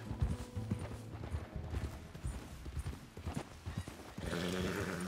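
A horse-drawn stagecoach in the Red Dead Redemption 2 game approaches with steady clip-clopping hooves, accompanied by creaking wheels and rattling harness, growing fuller and louder near the end.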